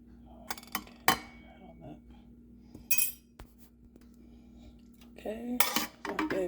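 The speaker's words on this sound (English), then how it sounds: "Okay, give it a stir." A spoon stirs instant coffee in a cup, giving a few sharp metallic clinks and scrapes against the sides in short separate bursts, with quiet pauses between them and a low steady hum behind.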